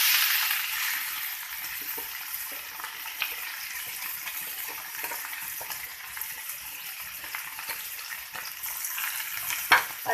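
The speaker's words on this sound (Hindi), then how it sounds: "अब इसके अंदर डाल देंगे हम फली" Guar beans sizzle in a pan with garlic that has already browned, giving a steady crackling fry with faint stirring clicks and a sharper pop near the end.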